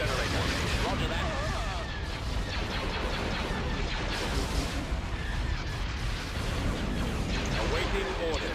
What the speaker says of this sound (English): Direct all fire on the shield generator.